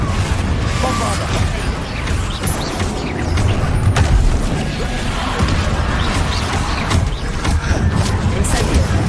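Bombarda blasting spells crash amid constant combat in Hogwarts Legacy, a dense, loud rumble of booms and smashing impacts with no clear gaps, under brief shouted spell calls.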